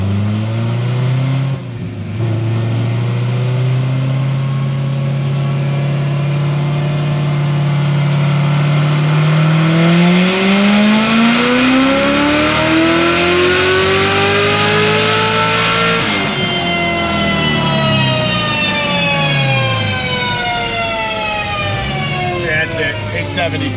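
A Corvette C7 Z06 with an RPM Stage 4 build and stock ported blower roars through a racing run, its engine pitch climbing steadily under acceleration, then dropping and rising again through a shift, loud and close with supercharger whine.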